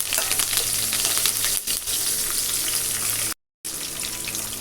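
Curry leaves dropped into hot oil with fennel seeds and cinnamon, giving a loud, dense, crackling sizzle that fills the whole stretch, briefly cut off near the end before resuming.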